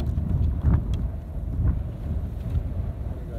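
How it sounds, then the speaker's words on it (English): Outdoor wind buffets the microphone in low rumbling gusts, with a couple of stronger bursts rising and falling over a few seconds and no speech. "There's a gust of wind."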